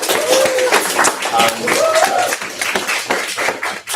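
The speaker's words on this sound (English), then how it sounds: "So round of applause." Attendees at a student meeting clap together in a short burst of close, dense hand claps, with voices talking over them.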